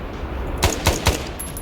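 Three sharp gunshots crack in quick succession during a Vietnam War firefight in Arma 3 S.O.G. Prairie Fire, loud and close over a steady background rumble, with no talking.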